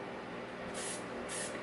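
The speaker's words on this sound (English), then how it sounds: "you can just go back in with your texture spray to just touch up" Texture spray hisses onto hair in two short bursts, close and soft, over a steady background wash.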